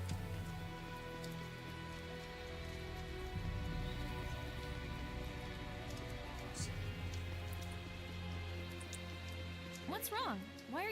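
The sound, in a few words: rain in a video game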